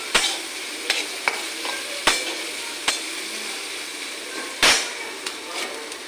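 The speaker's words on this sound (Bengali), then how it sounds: "গাজর পেঁয়াজ ভালো করে একটু ভাজা ভাজা করে নেব।" Carrots and onions fry in a pan with a steady sizzle, punctuated by several sharp clinks and scrapes of a utensil stirring against the metal, close and fairly quiet, with no voices.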